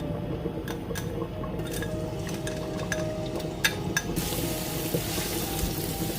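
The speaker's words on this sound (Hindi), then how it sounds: "अब इसमें मैं लहसुन अदरक की पेस्ट डालूंगी।" Garlic ginger paste frying in about four tablespoons of olive oil in a home kitchen pan, a steady low sizzle with occasional soft utensil clinks and scrapes, fairly quiet and continuous with no talk.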